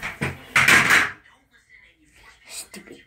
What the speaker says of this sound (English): Stupid door.